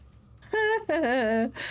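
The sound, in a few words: cat meowing in Murdered: Soul Suspect video game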